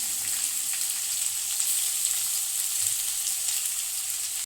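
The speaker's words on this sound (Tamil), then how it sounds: "பொடியாக நறுக்கின வெங்காயம், பச்சை மிளகாய் போட்டு அதையுமே நல்லா ஃப்ரை பண்ணிடலாம்." Chopped onions and green chilies sizzle and crackle steadily in hot oil, a constant bright frying hiss close by with no voices.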